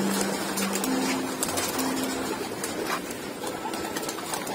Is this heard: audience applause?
no